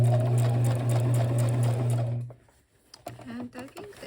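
A sewing machine stitches a leather bag in a steady, loud, rapid hum for about two seconds, then stops, followed by faint handling clicks and a quiet voice as the work is turned.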